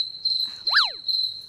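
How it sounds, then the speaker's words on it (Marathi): A cricket trapped indoors in a room keeps up a steady, shrill chirping trill, with one brief sweeping chirp in the middle, clear and close in a quiet space. "नेमकं आपण काहीतरी महत्वाचं बोलतो आणि रातकिडा येतो आणि किरकिर"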